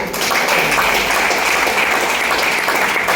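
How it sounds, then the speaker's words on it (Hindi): Loud applause from an audience at a business plan seminar, a continuous wash of many hands clapping at close range for about three seconds with no voices. "तो मैं चाहूंगा ऐसे गुरु जी के लिए जोरदार तालियां पहले तो"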